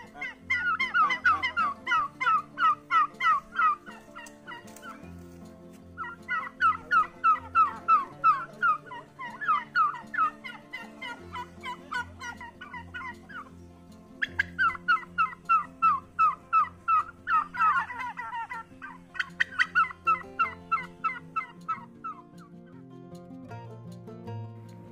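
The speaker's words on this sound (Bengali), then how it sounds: "তো এখানে টার্কি মুরগি হাঁটছিল, তো ভাবলাম টার্কির সাউন্ড তোমাদেরকে শোনাই," Turkeys in a village yard during Eid gobble in repeated rapid bursts, loud and close, with brief pauses between rounds and a low steady hum underneath for the whole stretch.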